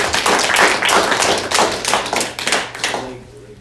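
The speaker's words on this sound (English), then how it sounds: "Let's give him a big round of applause." An audience at a presentation claps in a dense burst of many hands, loud and close, with the clapping thinning toward the end.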